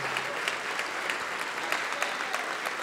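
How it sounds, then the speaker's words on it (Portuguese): A large church congregation claps continuously, a dense, loud and even wash of applause with a few sharper claps standing out, no voices on top. "Olha quanta gente, vamos aplaudir mais ao nome de Jesus."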